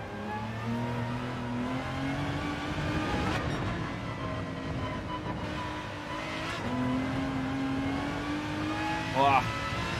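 A Toyota Supra in Gran Turismo 7 revs and accelerates through several gear changes in a race, with a rising and falling engine whine and a brief tire squeal near the end.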